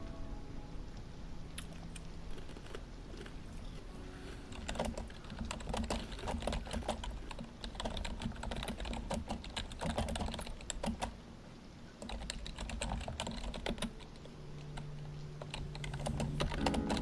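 Furious rage typing on a computer keyboard: a dense, rapid clatter of hard keystrokes that keeps going for many seconds with only brief lulls, close and fairly loud, with no talking.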